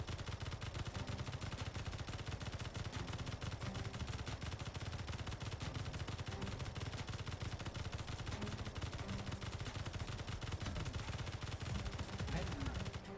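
Sustained rapid gunfire in the Rival Survival video game, dense and continuous bursts filling the whole stretch at steady loudness, with voices faintly present underneath.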